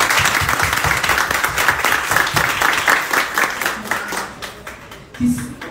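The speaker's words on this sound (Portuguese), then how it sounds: "E aqui eu gostaria de pedir uma salva de palmas para Romualdo e para Seu Deto." An audience at a book launch in Lajes, Rio Grande do Norte, applauds with many hands clapping loudly in a steady patter, gradually thinning out toward the end, where a voice briefly speaks.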